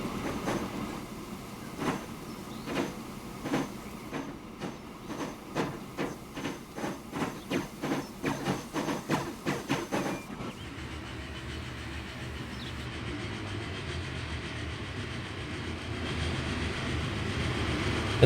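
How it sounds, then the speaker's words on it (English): A long train rumbles past in the game Transport Fever 2, its wheels clicking over rail joints in a steady, quickening rhythm for about ten seconds before giving way to a broad, steady roar with no voices. "That's a long train."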